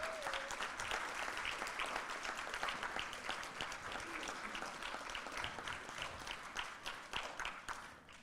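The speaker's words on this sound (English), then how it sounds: "Clap for that." An audience breaks into sustained, steady applause at a welcome event in a Barbados hotel ballroom, many hands clapping together at moderate distance with no talking over it.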